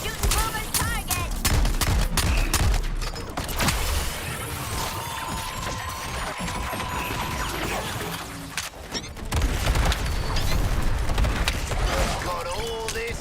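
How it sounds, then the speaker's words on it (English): Rapid grenade explosions and bursts of gunfire in the Suicide Squad video game, loud and dense throughout, with crashing impacts and mechanical clatter and a brief lull midway before the barrage resumes. "that grenade spam was crazy"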